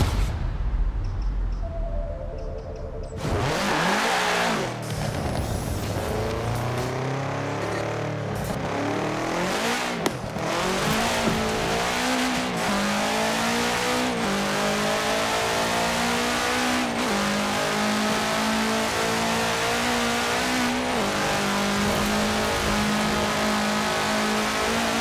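A 1966 Volkswagen Beetle fitted with a 2.5-liter flat-four turbo engine revs hard and accelerates in a Forza Horizon 4 racing game, its loud engine note rising and falling continuously, with brief tire noise.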